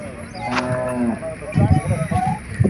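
Oxen and other cattle at a crowded Karnataka livestock market let out a drawn-out moo near the start, followed by busy market chatter and clatter.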